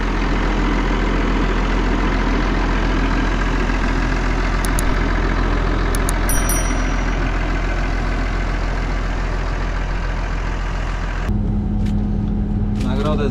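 A farm vehicle's engine in a farming video game hums steadily in a low drone while driving, then settles into a lower idle near the end, with a few faint clicks along the way.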